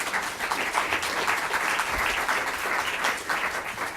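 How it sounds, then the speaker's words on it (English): Sustained audience applause for a legislative preview panel at a civic cafe event, a dense steady wash of many hands clapping throughout with no pauses. "A round of applause."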